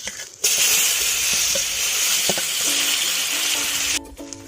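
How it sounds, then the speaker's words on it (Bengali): Chopped onion drops into hot oil already tempered with whole cumin, dried red chilli and bay leaf for a prawn curry, bursting into a loud, steady sizzle after a brief quiet start, then cutting off near the end. "এখন দিয়ে দেবো পেঁয়াজ কুচি"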